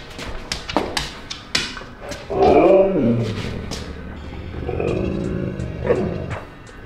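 Several dogs bark loudly and close by in sharp, irregular bursts, with a longer growling, roaring bark in the middle and a few yips, with no talk over them.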